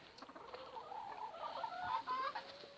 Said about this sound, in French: Ouais, une poule là, attendez.